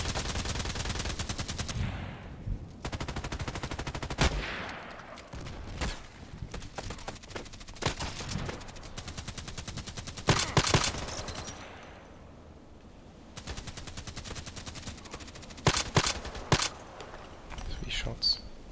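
Shotgun blasts in a video game come in sharp, loud bursts, some single and some in quick clusters, separated by short quieter gaps across the stretch.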